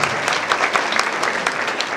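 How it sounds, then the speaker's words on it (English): Graduates at a university graduation ceremony in Kenya clap for themselves, a dense, steady applause from a large seated crowd that fills the space evenly with no talking over it. "As you also give yourself a clap for having got it"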